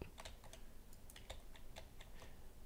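Someone types on a computer keyboard in a quiet room: a faint, close run of irregular light key clicks, with no one talking.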